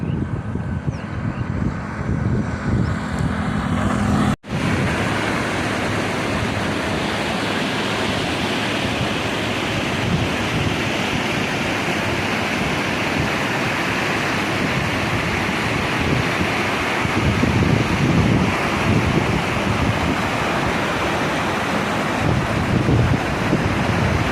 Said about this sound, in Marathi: कशाप्रमाणे तुफान असं नदी फुल वाहत चाललेला आहे